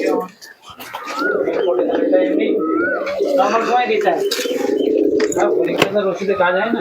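Pigeons kept for sale coo in a low, rolling murmur throughout, with scattered chirps and soft knocks nearby while someone talks over them.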